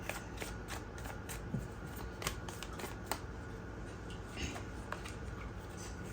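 Tarot cards are shuffled for a reading. Soft, repeated papery flicks and taps sit under a steady hiss of room noise, faint and close.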